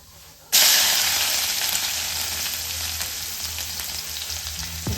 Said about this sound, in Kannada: ಸೊ ಸಾಸಿವೆ ಸಿಡಿದಿದ್ದೀನಿ. ಅದು 2 ಬೆಳ್ಳುಳ್ಳಿನ ನಾನು ಸುಲ್ಕೊಂಡು ಚೆಚ್ಕೊಂಡು ಹಾಕೋತಾ ಇದ್ದೀನಿ.